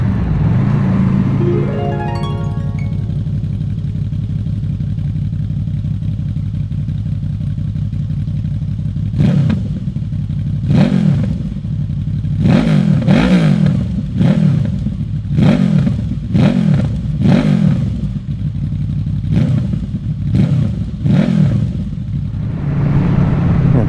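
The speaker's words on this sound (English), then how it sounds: "That exhaust sounds so good. It is crazy good, that exhaust." A Honda VFR800F motorcycle engine idles steadily, then revs repeatedly in sharp bursts, with a rumbling exhaust between each rev, close by.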